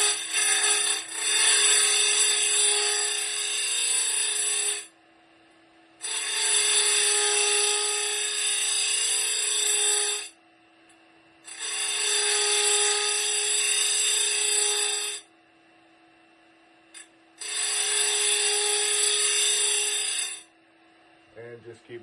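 A stone dresser scrapes against the grinding wheel of a Simington 451c chain grinder in four long, even bursts separated by short pauses, over a steady motor hum, close and moderately loud.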